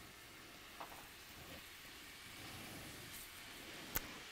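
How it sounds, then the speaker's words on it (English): Hot dog-style sausages sizzle in a hot pan with a faint, steady hiss and a couple of small pops. "they're starting to sizzle because the pan is hot"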